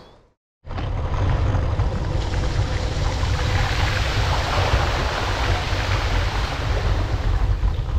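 Bicycle ridden through deep flood water during Storm Babet in Lincolnshire, a loud continuous rushing, splashing wash with wind buffeting the microphone, starting abruptly after a brief quiet moment and holding steady throughout.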